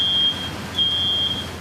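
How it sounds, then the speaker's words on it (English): A high, thin electronic smoke-alarm beep sounds in intermittent bursts over a low outdoor rumble, fairly distant, with no voices, amid obliterated homes in Manasota Key after Hurricane Milton. "the silence punctuated by sound of smoke alarms"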